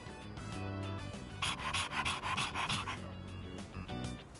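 A dog pants in Persona 3 Reload, quick rhythmic breaths close up over soft game music, with a few louder huffs midway.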